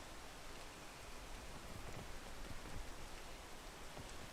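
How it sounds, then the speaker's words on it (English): Steady rain falling in a video game, a soft, even hiss of drops running unbroken and fairly quiet throughout, with no voices over it. "not risking it now because it's raining"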